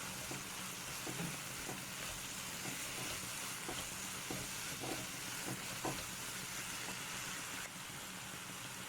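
A vegetable sauce with tomato paste sizzles steadily in a frying pan while it is stirred, with a constant soft hiss of frying and faint periodic scrapes from the spoon, fairly quiet and close.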